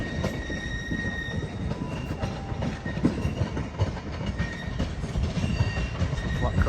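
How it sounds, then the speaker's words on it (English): A Class 158 diesel train comes into a station on the Heart of Wales line, with a steady rolling rumble, clicking wheels and faint squeals from the rails, fairly close and continuous. "There's a 158 coming in."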